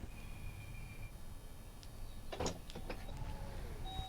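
Power liftgate of a 2025 Porsche Panamera 4 E-Hybrid opening, a steady, quiet electric motor whir with a few soft clicks and a faint latch sound near the end, heard close with no talk.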